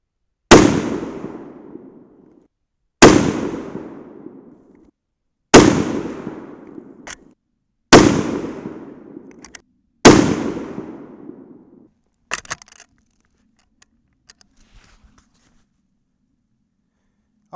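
Five loud .308 Winchester rifle shots fired with 110gr Hornady Z-Max bullets over Reloder 7 powder, each a sharp crack with a long decaying outdoor echo, spaced about two to three seconds apart, followed by faint clicks and handling noise.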